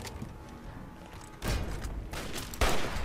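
A few sharp gunshots crack out in Fallout 3, loud and close, spaced roughly a second apart over a rumbling background.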